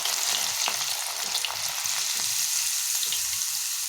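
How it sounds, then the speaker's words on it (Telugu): Peanuts and chana dal deep frying in hot oil inside a strainer, a close, dense and continuous sizzle with light scraping and stirring taps over it. "అందువల్ల స్ట్రైనర్లో పెట్టి ఫ్రై చేస్తున్నాను"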